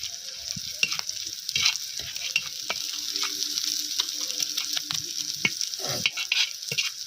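Onion and garlic frying in a pan with chili powder and crushed peanuts added, a steady close sizzle with repeated scraping stirs throughout, no voices.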